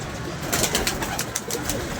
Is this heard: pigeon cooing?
yes